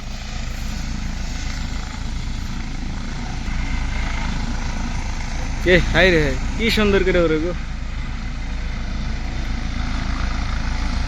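A helicopter belonging to Himanta Biswa Sarma flies over a Sainik School, its steady engine and rotor drone filling the whole clip while people talk and exclaim over it.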